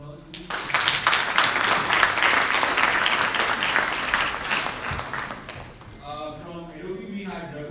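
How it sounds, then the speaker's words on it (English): Sustained applause from a crowd at a university hackathon, steady and loud for several seconds, then a voice begins speaking as the clapping fades. "Can we have a round of applause, please?"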